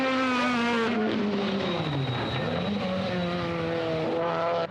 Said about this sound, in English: Look at this blowing Honda up the hill here.